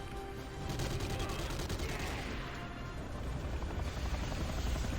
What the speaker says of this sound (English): Now there will be 2 helicopters dropping enemy infantry.